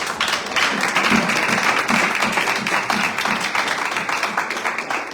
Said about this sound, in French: Alors, on doit applaudir